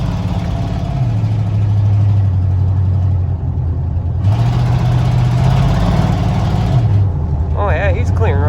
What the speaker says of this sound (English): Another thing I want to do is quiet this exhaust down,